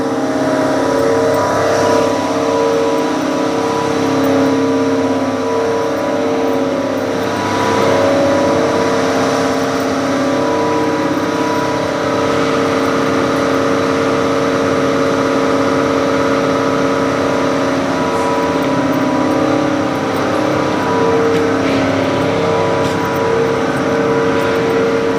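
Steady low drone of a large truck engine idling through loading for ice bound for Manila, continuous and fairly loud throughout, with faint clatter and background activity but no clear talk.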